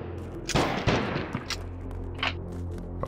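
Video game gunfire coming through a wall, a burst of several sharp shots with rumbling low-end booms, fairly loud and close, with no talking over it.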